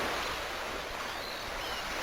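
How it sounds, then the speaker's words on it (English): Water effects in the Amiga game Paradise Lost, a faint, steady, broad wash of rushing noise resembling surf, continuous throughout with no talking over it. "There's some sick water effects."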